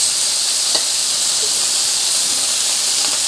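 Chicken wings sear in a cast iron skillet, giving off a steady, loud hiss and sizzle that holds constant throughout, with faint soft clinks and spatters underneath and no talk.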